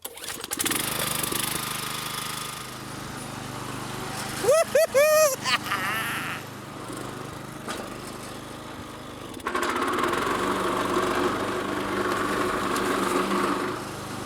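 A riding lawn mower's small engine starting and running: a steady, buzzing engine drone from start to finish, rising slightly toward the end, with a person talking over it.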